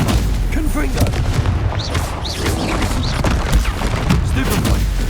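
Confringo fire-blast spells go off in a Hogwarts Legacy duel. Repeated booming explosions land close together amid dense combat noise, with a voice calling out over the fighting.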